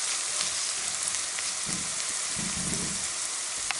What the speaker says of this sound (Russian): Обжариваю лук и морковь почти до готовности.